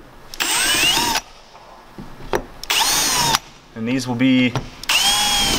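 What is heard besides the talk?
power drill drilling holes in Sprinter van roof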